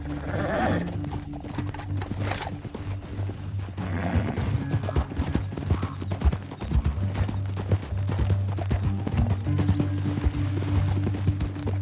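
Horse hooves gallop steadily in Red Dead Redemption 2, a continuous close clip-clop over a low rumbling bed with occasional whinnies, lasting throughout.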